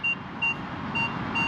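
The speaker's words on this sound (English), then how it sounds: "as you get closer, you get that double beep" Paired short electronic beeps from a Minelab Vanquish 540 metal detector sweeping over a zinc penny, repeating a few times at close range against a steady background hiss.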